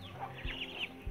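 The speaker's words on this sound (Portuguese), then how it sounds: "Olha, pessoal, os patos." Ducks on a small rural farm give a few quiet, brief calls, with soft low thumps between them and no talking.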